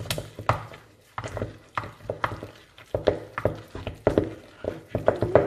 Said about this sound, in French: Je vais encore remuer un peu.